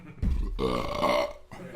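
A man lets out a long, loud burp from the kitchen area of a fantasy tavern scene, rumbling and voiced, with a brief quieter tail after it and no talk over it.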